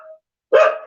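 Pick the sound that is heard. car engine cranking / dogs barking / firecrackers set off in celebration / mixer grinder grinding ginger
dogs barking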